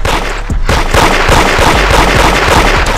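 Weapon fire in the Da Hood video game, a dense burst of rapid shots and impacts that stays loud and continuous throughout with no pause.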